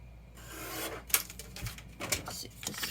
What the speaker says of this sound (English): I'm gonna trim that off before I put it on there.